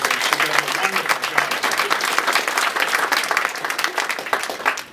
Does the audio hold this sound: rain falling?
no